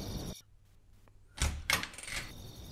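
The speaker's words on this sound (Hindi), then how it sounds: "आमना दरवाजा खोलो, मैं हूँ।" A house door opens in a dramatic film scene: after a quiet stretch, a sharp latch clatter and a couple of knocking thuds ring out close by, then the room settles into faint background hiss.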